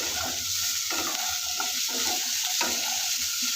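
Potato and pointed gourd pieces fry with turmeric and salt in a pan, giving a steady close sizzle broken by rhythmic scraping strokes of a spatula, with no talking.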